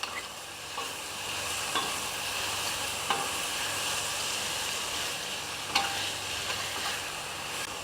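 Garlic and shiitake mushrooms fry and sizzle in a home-kitchen pan with a steady hiss, broken by occasional sharp scrapes and clinks as a utensil stirs them.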